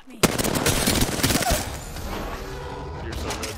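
Automatic weapon fire in the Apex Legends video game crackles in a loud rapid burst of shots lasting over a second, then fades into a lingering echoing tail.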